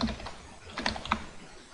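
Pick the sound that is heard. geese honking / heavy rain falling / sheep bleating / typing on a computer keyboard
typing on a computer keyboard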